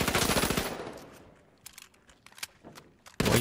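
Light-class gun firing in The Finals video game: a loud, rapid automatic burst, then a gap with scattered single shots and faint clicks, and a sharp burst starting again at the end.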